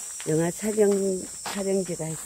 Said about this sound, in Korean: 매미도 울고.